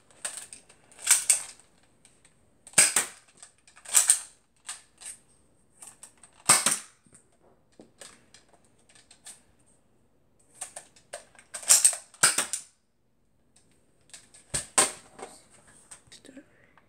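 A Nerf Switch Shot EX3 toy blaster fires in a series of sharp, close snapping shots, some single and some in quick clusters, separated by quiet gaps and light mechanical clicks.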